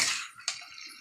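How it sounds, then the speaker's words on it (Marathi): Water is poured briefly into a vegetable curry in a pot, a quiet splash and gurgle that lasts about a second, with a small burst partway through. "पाणी ओतून घेते या भाजीत."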